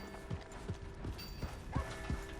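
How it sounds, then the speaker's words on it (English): Horse hooves clip-clop in the Red Dead Redemption 2 video game, a steady walking rhythm of about a half-dozen close, muffled thuds over light ambient game sound and faint creaks. "Hey! My horse!"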